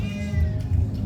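A cat gives a single drawn-out meow close by, its harmonic cry sliding over about a second above a low rumble of outdoor background noise.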